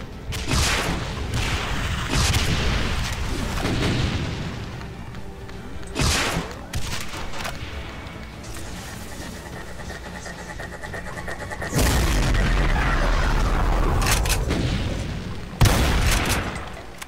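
Loud, dense rocket explosions and gunfire in the FreeDoom Phase 2 shooter with the Complex Doom Chaos Lite mod, sustained booming blasts with sharp bursts recurring throughout.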